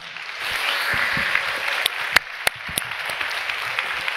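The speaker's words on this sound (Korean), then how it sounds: "우리 리빙시드 우리 한 분 한 분 다시 한번 큰 박수 해주시고요" A church congregation applauds together, a dense, steady wash of clapping with a few sharper individual claps standing out near the end.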